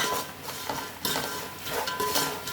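Puffed rice being tossed and mixed with masala in a warm pan on a switched-off stove, a steady dry rustling and scraping of utensil against metal with a few sharper clinks, continuous and close.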